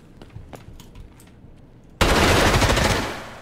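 Gunfire in the shooter game Escape From Tarkov: faint clicks for two seconds, then a loud, dense burst of rapid automatic fire that roars without a break and eases off slightly at the end.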